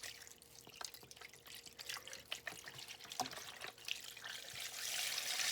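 Water pours and trickles into a pot of chicken broth, quiet and close, with small splashes and drips in an uneven, splashy run that swells slightly near the end.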